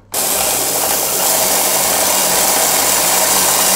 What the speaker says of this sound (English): after a little bit of blending, this is our herbal salt